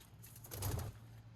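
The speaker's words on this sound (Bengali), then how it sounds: "এই যে কবুতর তারা বসে আছে" Pigeons sitting in a cage on a rooftop coo softly and close by, with a low murmur that swells briefly in the middle over faint background hum.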